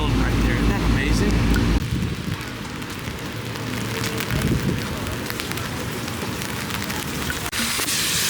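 Steady rain pours onto a street in Boston on a cold day, a dense, even hiss of drops hitting the ground and surfaces, continuous and close, with a heavier low rumble in the first couple of seconds.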